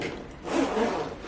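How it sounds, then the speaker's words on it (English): Zipper on a brand-new Gibson guitar gig bag is pulled open in one smooth, close, continuous rasp lasting about a second. "inside, as we unzip"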